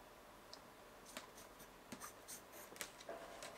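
A pen drawing a curve on sewing pattern paper for a scalloped Peter Pan collar, faint scratchy strokes in short irregular bursts, close and quiet with no talking.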